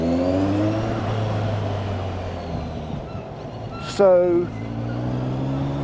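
A Kawasaki Z1000 SX sports tourer with an aftermarket Akrapovic exhaust idles with a steady engine tone, then gives a sharp, loud rev blip that falls back to idle. A voice speaks briefly.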